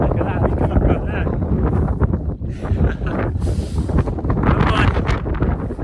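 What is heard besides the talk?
strong wind on the summit of High Willhays, Dartmoor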